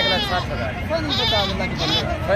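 Barbari goats at a busy livestock mandi give repeated shaky, nasal bleats close to the listener, overlapping with chatter and a murmuring crowd throughout.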